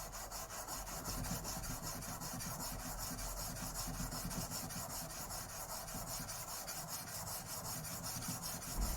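The back of an old plane blade is rubbed flat on a sharpening stone, a steady rhythmic rasping scrape repeated in quick back-and-forth strokes, close and continuous with no voices.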